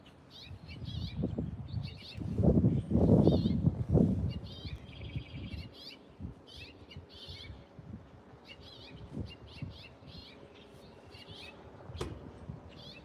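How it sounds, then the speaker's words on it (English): Two birds trade short chirping calls back and forth, some near and some farther off, with low rustling and thumps underneath. "There's like two little birds that are like friends."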